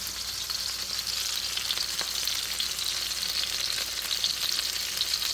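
Broccoli frying in a pan, heard as a continuous bright, hissing sizzle that stays steady and close throughout, with no talking.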